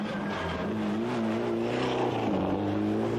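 A 1995 World Rally Championship Toyota rally car with damaged rear suspension, a broken wishbone, drives a rally stage, its engine note holding a sustained droning pitch that rises and dips slightly, steady and close.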